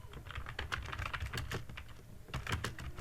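Fingers type a sentence on a laptop keyboard in a quick run of soft, close key clicks that pauses briefly midway and then resumes.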